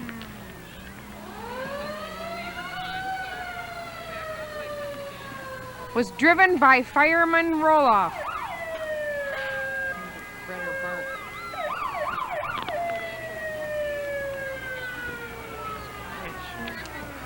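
A restored antique siren on an old Buffalo fire truck in the 1996 New London Grand Parade, winding up and down in long wails, with a burst of short warbling yelps in the middle and someone talking over it.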